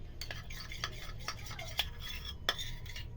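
Spoon stirring a thick paste of besan, turmeric and milk powder with milk in a small bowl, close soft scraping strokes with a couple of light clinks.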